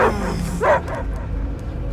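Dogs bark and yip in the video game Guardians of the Galaxy, a few short barks and a whimpering yelp over a low, rumbling game soundtrack, with no speech.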